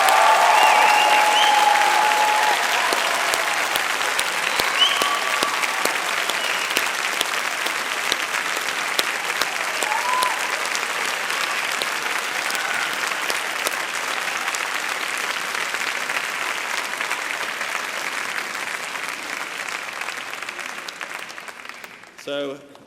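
Graduates at a university graduation ceremony applaud their families in a long, full round of clapping that starts loud and gradually tapers off over about twenty seconds.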